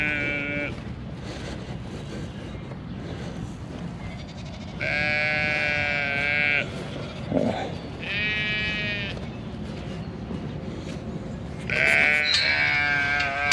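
Sheep bleat loudly and near on a farm, in three separate bursts of wavering calls with quieter barnyard noise and low talk between them.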